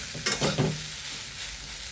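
Soybean chunks frying in oil give a steady, close sizzle with a short burst of stirring near the start, with no voices.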